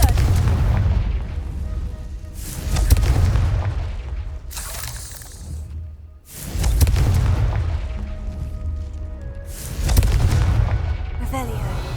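Confringo fire spell blasts in Hogwarts Legacy, heavy booming bursts repeating every few seconds with rumbling low end, loud and close over a game soundscape.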